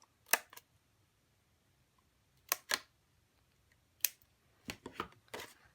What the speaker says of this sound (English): simply just take your scissors and snip out the bottom of the hole.